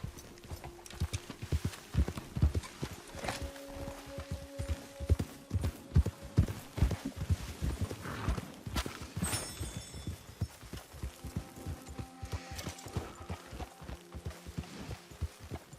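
Horses gallop in Red Dead Online, with rapid, steady clip-clopping hooves running close and loud throughout, joined by faint in-game ambience and occasional short tonal game sounds.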